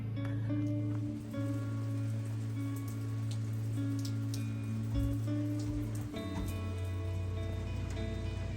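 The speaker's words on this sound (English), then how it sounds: "The rain has come." Rain falling outdoors, a continuous patter with scattered ticking drops over a steady low hum, moderately quiet and constant throughout.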